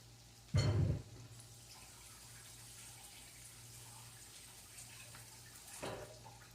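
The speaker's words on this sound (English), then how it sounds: "I'm going to take my bowl over here to the sink and wash my hands real quick." A brief burst of running tap water at a kitchen sink near the start, then quiet room hum, with a fainter splash of water near the end.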